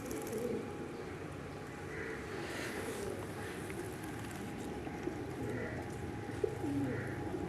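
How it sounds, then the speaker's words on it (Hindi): Golden pigeons cooing among soft outdoor ambience, with low repeated coos under a steady background hiss. "तो लेकिन असल में ये गोल्डन कमगर कबूतर जो है ना वो"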